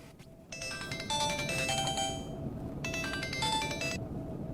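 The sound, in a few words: telephone ringing on speakerphone call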